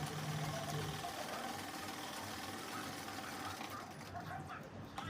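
Domestic sewing machine running a straight seam along a blouse belt with a half-inch margin, a faint steady motor hum with soft needle rattle continuing throughout.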